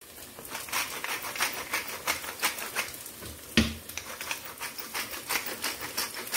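Cooked food being stirred in a pan in a home kitchen in Turkey, quick scraping and pattering strokes in an irregular rhythm, fairly close, with one sharper knock of the utensil partway through and no talk.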